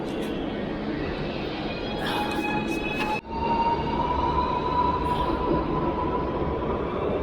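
Loud, continuous rumble of a moving train with rail noise and a steady whine, briefly dipping midway before the roar resumes.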